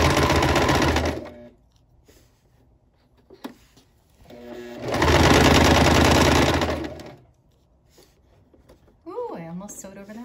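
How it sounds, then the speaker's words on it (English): A domestic sewing machine stitches a dress in two loud close bursts of rapid mechanical whirring, separated by quiet pauses with small handling clicks, and a voice speaks briefly near the end. "Ooh, I almost sewed over that pin."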